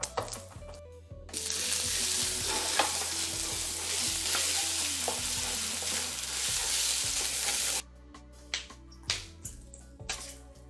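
Garlic sizzles and crackles as it fries with onions in a hot pan for a cooked shallot paste, a steady loud frying hiss with stirring scrapes, which ends abruptly and gives way to scattered clinks and taps.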